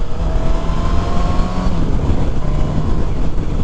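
A 2021 Suzuki Katana motorcycle accelerating on a test ride, its engine a loud, steady, close roar with rising tonal whine, buffeted by road and wind noise throughout.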